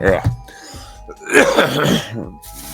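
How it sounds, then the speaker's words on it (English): Someone coughs and clears their throat several times in short bursts, close to the mic, throat full of dust, with a bit of talking mixed in between. "Coughing and sneezing and"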